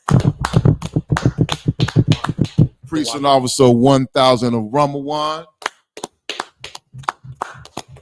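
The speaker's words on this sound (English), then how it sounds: "Clap it up." Quick bursts of clapping on a podcast set, sharp claps in rapid clusters at the start and end, with someone speaking and a sung or drawn-out vocal passage in the middle.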